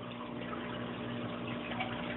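Water spills over the divider inside an Eshopps PF 1000 aquarium overflow box into the drain compartment, a steady close-up rushing trickle over a constant pump hum.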